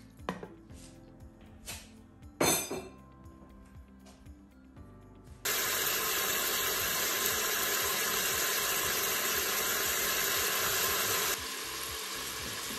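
Sliced steak hitting a hot pan on medium heat for Vietnamese phở: a few clunks and handling knocks, then a sudden loud, steady broadband sizzle that holds for several seconds before easing slightly.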